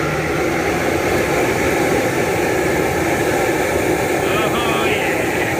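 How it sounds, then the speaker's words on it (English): A gas burner roars under a home brewing kettle during a lager brew day, making a loud, steady, broad rushing noise that fills the whole stretch without letup. "this is the sound of the burner."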